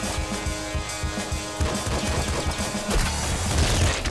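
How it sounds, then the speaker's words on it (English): Rapid machine gun fire from the video game Nuclear Throne, a dense, loud, continuous clatter of shots layered over busy game sounds for the whole stretch. "Machine gun."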